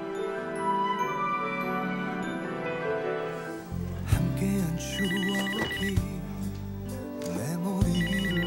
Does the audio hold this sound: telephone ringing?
yes